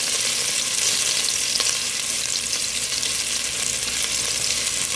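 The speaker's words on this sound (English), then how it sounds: "Just saute these a little bit, like I've been doing them for maybe about a minute now." Onions sauté in a pan with a continuous, even sizzle that stays close and fairly loud for the whole stretch. There is no talking over it.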